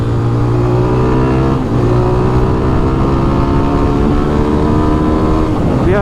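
A Zontes GK350, a 350cc Chinese café racer motorcycle, roars steadily at speed while being ridden, its engine drone loud and sustained with a brief dip and a rising rev near the end.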